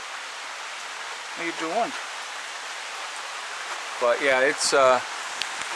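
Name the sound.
rain falling on a car and surfaces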